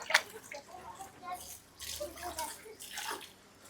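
Water splashes and pours in short bursts close by as feet are washed before a fish spa at Pookode Lake in Wayanad, with a brief knock at the start and quiet pauses between pours.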